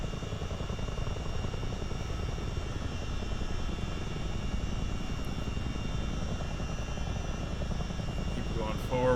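A CH-47 Chinook twin-rotor helicopter hovers low in ground effect, its engines and rotors making a loud, steady, dense roar heard from inside the cabin, with voices faintly mixed in.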